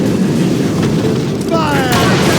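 Ship cannons firing in the video game Assassin's Creed Rogue, loud booming blasts over dense, continuous battle noise, with shouted voices heard throughout.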